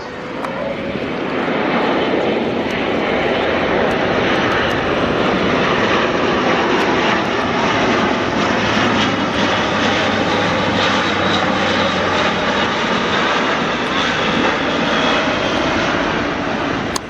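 A military jet climbs steeply, nose up about 35 degrees, during a flying display at the Royal International Air Tattoo, a loud, continuous roar of jet engine filling the air throughout.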